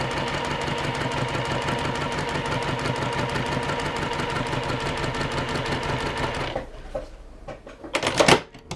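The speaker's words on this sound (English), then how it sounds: "So now I'm just going to sew along the line I just drew" Sewing machine running steadily at stitch length 2 along a drawn line on fabric, a continuous close mechanical whir with rapid needle rhythm for about six seconds, then stopping, followed by brief handling clicks and rustle.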